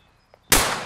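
A single sharp sniper rifle shot in a video game, loud and close, with a long decaying tail after a faint tick.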